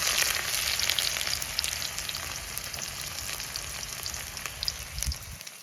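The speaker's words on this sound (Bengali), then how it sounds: "পেঁয়াজ দিয়ে দিচ্ছি, প্রচুর পরিমাণে হিট হয়ে গেছে তেল একেবারে।" Onions dropped into very hot oil for a village-style chicken curry, a loud, steady hiss and crackle close by that cuts off abruptly at the end.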